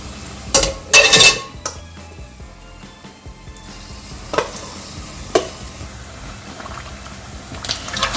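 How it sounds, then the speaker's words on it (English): Metal utensils clatter and scrape against a kadai over a soft, steady deep-frying sizzle as paneer pieces fry, with occasional sharp knocks. "I'm going to fry individual paneer one by one into my kadahi and just deep fry it"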